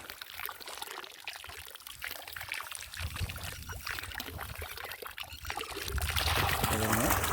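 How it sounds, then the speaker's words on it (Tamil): Water flows through pipeline irrigation on farm land near Trichy, a continuous rushing pour that swells louder toward the end, with someone talking over it. "வாட்டர் ஃப்ளோவை பாருங்கள்."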